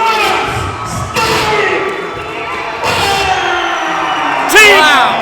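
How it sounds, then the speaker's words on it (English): A wrestling crowd at Plaquemine roars and cheers wildly, loud and sustained, with thuds and bursts of noise rising over it while an announcer talks excitedly throughout. "But this crowd is going crazy here at Plaquemine"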